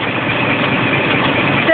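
A Scania truck's diesel engine idles during a safety inspection, a steady close rumble that runs unbroken for under two seconds before a brief change at the end.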